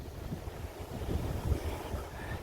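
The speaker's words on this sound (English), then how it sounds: "Winds southeasterly, blowing off me back." A southeasterly wind blows steadily across the microphone on the Northumberland coast at Craster, a continuous low rumbling buffet with gusty surges and faint sea wash beneath.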